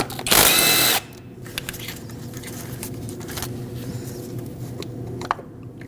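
A power tool whirs in one loud burst of under a second while undoing the front-bank VVT solenoid bolts on a 2008-2012 Honda Accord 3.5L V6, then gives way to quiet workshop background.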